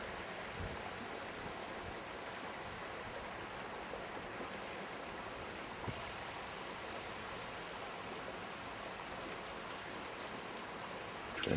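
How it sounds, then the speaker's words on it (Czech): Water from a burst water main spreading along a pavement across a housing estate in Turnov, a steady broadband rush that keeps a constant level throughout with no talking. "A voda teče po chodníčku po celém sídlišti."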